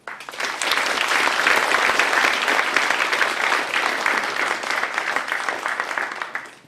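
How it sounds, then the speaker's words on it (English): A lecture hall audience at the Chinese University of Hong Kong gives steady, sustained applause welcoming a Harvard emeritus professor, many hands clapping together at moderate loudness. "Let's welcome him with a round of applause"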